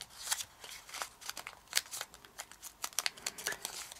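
Crisp origami paper being creased and folded for a Clic Clac fidget toy, a close, quiet series of sharp crinkles and papery snaps in an uneven rhythm, with no one talking.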